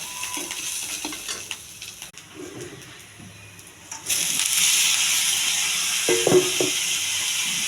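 Onion, curry leaves and tempering spices sizzle and fry in a pan, with stirring scrapes throughout, turning louder and more steady halfway through, then a few sharp clinks near the end.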